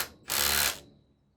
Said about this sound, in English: Tighten all the clamps in place